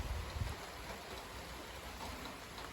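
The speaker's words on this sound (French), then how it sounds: "il repleut." Rain falls again during a secondary squall line on an August evening, with steady broadband hiss of rainfall and a few low gusty rumbles early on, moderately close and unbroken.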